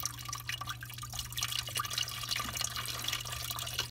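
Water drains from a clogged garbage disposal drain pipe into a bucket under a kitchen sink, a faint, steady trickle with a low hum underneath.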